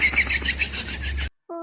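Birds perched on electric poles and wires chirp in quick, bright, repeated notes over a steady low hum, then stop abruptly, followed by a short, separate tonal sound.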